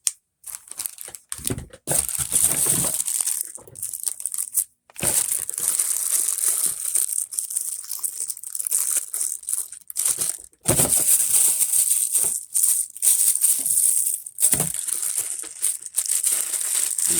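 A plastic bag crinkles and crackles as a camera is unpacked, coming in close, busy bursts of rustling that stop briefly between handlings, with no one talking.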